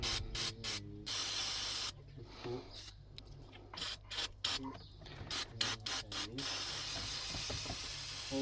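Degreaser hisses from a spray can onto the engine of a 2015 Holden Cruze 1.8 in short, repeated bursts with brief gaps between them, fairly faint and close.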